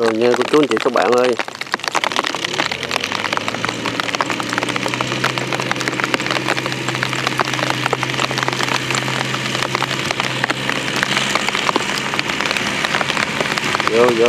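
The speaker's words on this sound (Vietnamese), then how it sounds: "Trời mưa rồi" Steady, dense rain hisses throughout, with a low hum beneath and voices talking over it.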